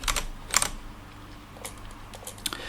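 Keys clatter on a computer keyboard as code is typed, in a few quick clusters of sharp clicks separated by pauses, close and fairly loud with no voices.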